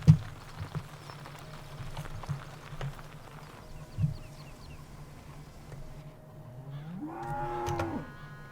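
Cattle in the farming game Farming Simulator 2017 on the Sosnovka map, with a long, rising moo near the end, after faint knocks and thuds in a quiet barn setting.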